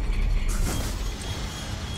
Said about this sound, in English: When something turns off in this place and tries to turn back on. It's like it's reverbing through all the metal.